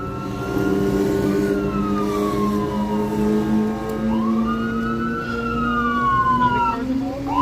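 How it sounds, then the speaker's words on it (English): A loud fire engine siren wails continuously, its pitch rising and falling in long sweeps as it passes close by at a five-vehicle traffic collision, with traffic rumbling underneath. "Appears to be a fire engine, I believe."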